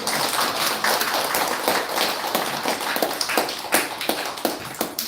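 A Korean church congregation at Sunday morning worship at Yeoju Pyeonggang Church claps to welcome a member. Brisk, dense applause from many hands stays loud and close for several seconds with no talking.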